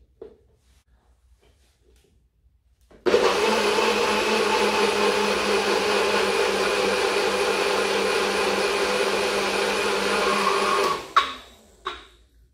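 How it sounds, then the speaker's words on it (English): A blender whirs through vegetable soup made with potato and cauliflower, starting abruptly after a quiet pause, then running loud and steady for about eight seconds before cutting off with a few clunks. "I'm just now going to blend this down until it's nice and thin."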